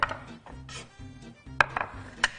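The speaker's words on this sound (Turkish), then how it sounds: "Dereotumuzu doğruyoruz" A knife chopping fresh dill on a board, close, rhythmic thuds in quick uneven bursts with a few sharper knocks, no voices.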